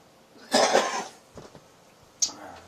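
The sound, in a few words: cough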